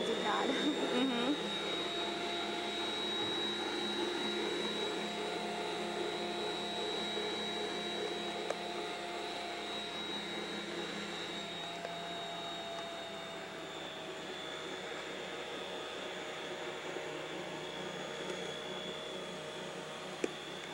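A stand mixer runs steadily at a low hum while six cups of flour are added to dough in its bowl, an even whirring drone with a faint high whine that holds for the whole stretch.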